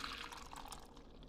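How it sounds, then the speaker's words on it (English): Activated yeast liquid pours steadily into a well of flour for corn bread dough, a soft continuous wet trickle heard close up with no one talking. "you make a well in the middle and then you go pour in the liquid"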